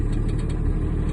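Semi truck diesel engine labouring low and steady as it pulls against the set trailer brake during an air brake test, a close, loud, continuous rumble.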